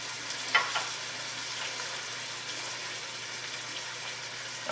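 Carrots sizzle in a hot pan while cooking for a chuck roast in red sauce, a steady close frying hiss with a couple of brief clicks near the start and no talking.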